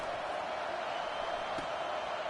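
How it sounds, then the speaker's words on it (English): A stadium crowd in the NCAA 25 college football video game roars in a steady, dense wash of noise, sustained at constant loudness with a faint commentator voice blended in. "listen to this crowd roar"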